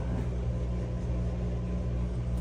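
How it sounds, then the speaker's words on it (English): A household washing machine running hard produces a constant low rumbling hum with a steady noisy wash over it, close by and unchanging for the whole stretch, with no talking. "Probably hear my fucking wash machine going crazy in"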